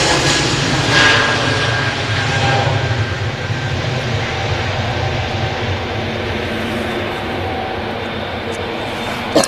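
A plane at Manchester Airport rolls onto the runway, its engine giving a steady, loud broadband roar with a low rumble that holds throughout, no voices.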